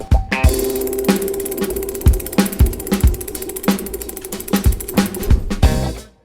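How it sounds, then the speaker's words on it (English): An Allen or Torx key loosens the chainring bolts on a Santa Cruz Superlight bicycle, giving a steady run of sharp, loud ratcheting clicks with metallic ringing, close up and with no talk. "First, you want to remove your chainring by loosening the chainring bolts."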